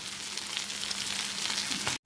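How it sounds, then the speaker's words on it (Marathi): Leftover cooked rice tempered in hot oil in a kadhai sizzles with a steady, close frying hiss and a few stirring scrapes, then cuts off abruptly near the end. "माझा दुपारचा भात उरलेला होता, आता तो मी फोडणी देत आहे"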